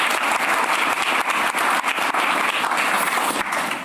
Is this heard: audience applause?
yes